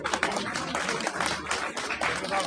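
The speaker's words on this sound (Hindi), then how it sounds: "एक बार तालियों की गड़गड़ाहट के साथ" Sustained applause from a crowd at a traders' assembly, a dense steady wash of clapping that fills the whole stretch without pause.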